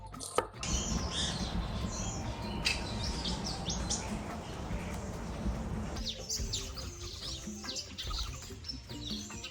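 Small birds chirp and sing outdoors in a steady chorus, joined by a low background rumble and light rustling throughout.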